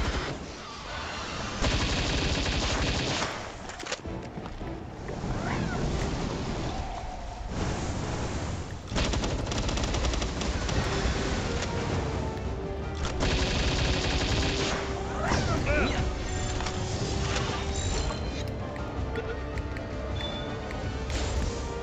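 Gunfire in the video game Palworld on hard mode, with repeated loud bursts of shots and volleys spread through the stretch, interrupted by short lulls, over a steady game soundscape.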